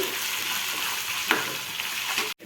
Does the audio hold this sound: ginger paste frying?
yes